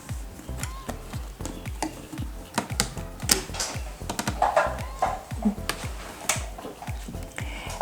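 A sewing machine stitches along a patchwork foundation line, its needle beating in a rapid, regular mechanical rhythm of close, distinct thumps with no voices.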